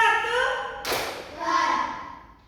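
Primary-school children in a classroom join a clap game, with one sharp, close clap landing between children's voices chanting before and after it.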